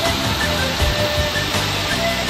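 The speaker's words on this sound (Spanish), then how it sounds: "está esta maravillosa cascada natural del Chuveje" Natural Chuveje waterfall in the Sierra Gorda of Querétaro, Mexico, giving a steady, loud, broadband rush of falling water that runs unbroken throughout, with no voices.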